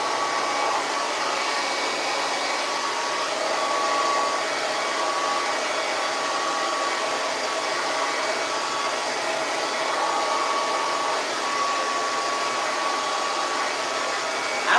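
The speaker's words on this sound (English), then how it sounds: "Diffuser time." Hair dryer fitted with a diffuser blowing on curly crochet hair, a constant loud whooshing hum that holds steady throughout with no talk.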